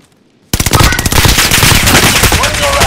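Heavy automatic gunfire in a Call of Duty match erupts after a brief silence, then continues as loud, dense rapid bursts with overlapping shots throughout.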